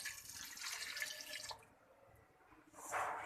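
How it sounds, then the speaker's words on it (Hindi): Two glasses of water pour into a pressure cooker of camel meat karahi in a home kitchen, a faint splashing stream that breaks off and then resumes briefly. "2 गिलास मैं यहाँ पे पानी डालूँगी।"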